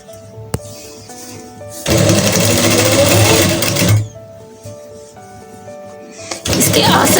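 A sewing machine runs in two loud, steady bursts while stitching the side seam of a pair of trousers, with a single click and quieter pauses between the runs.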